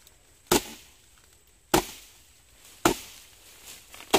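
Wood being chopped and split for a fence, four sharp, loud axe strikes spaced about a second apart, each cracking impact trailing off into a quiet outdoor background.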